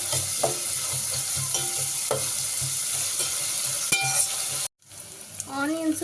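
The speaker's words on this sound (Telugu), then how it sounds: "ఇంకా డైరెక్ట్ ఆనియన్స్ వేసేసుకుంటున్నాను. అయితే ఫ్రై చేసుకోవాలి." Onions sizzling in oil in a pan as chicken pulao is cooked, a steady close fry with intermittent stirring scrapes, briefly cut off near the end before the sizzle resumes, with no talking.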